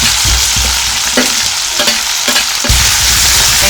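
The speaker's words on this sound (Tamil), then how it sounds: "இப்போ வெங்காயம் சேர்த்துக்கலாம்" Onions frying in a pan over medium flame with chana dal for rava upma, a loud continuous sizzle broken by several sharp stirring scrapes.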